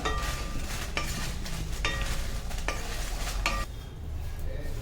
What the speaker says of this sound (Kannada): ಸ್ವಲ್ಪ ಗರಿ ಗರಿ ಆಗೋವರೆಗೂ ಹುರ್ಕೊಳ್ಳಿ.